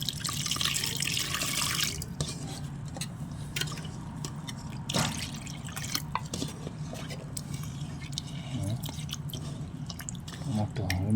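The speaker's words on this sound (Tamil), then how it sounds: "நல்லா பண்ணிட்டு தண்ணி ஊற்றி நல்லா இது பண்ணிக்கலாம்." Water splashes and trickles as it is poured while making pepper rasam, with drips and squishy sounds, while a voice talks faintly in the background.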